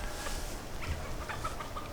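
Chickens in a backyard garden give soft, intermittent clucks over a steady outdoor background, fairly close but low in level, with no one speaking.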